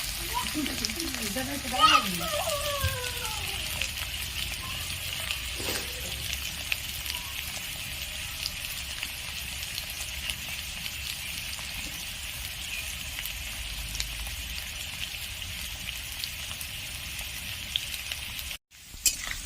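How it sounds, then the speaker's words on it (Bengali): Potatoes frying in oil in a pan, a steady broad sizzle running throughout, close and even, with a brief voice near the start and a short dropout near the end. "এটা একদম লাল করে ভেজে নেব।"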